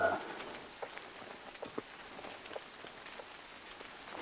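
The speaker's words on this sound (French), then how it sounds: "j'aime bien ces sons de pluie. Légère." Soft, light rain patters in a dark mountain forest in the Barousse, Pyrenees, with scattered drops tapping on surfaces, quiet and steady throughout.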